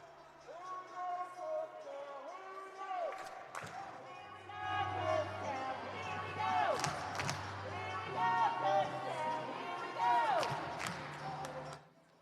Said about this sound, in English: Kutztown chants out in full force tonight